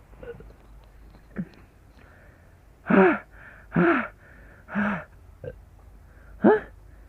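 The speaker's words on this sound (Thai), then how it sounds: "เสียงหายใจหอบ" Ragged gasping breaths come in several loud bursts, each a sharp heaving intake followed by quieter panting, irregularly spaced and close up with no other sounds.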